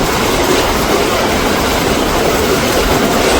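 Steady, loud rolling roar of a fast passenger train between Bathinda and Ambala, with faint clickety-clack of wheels on rail and no voices.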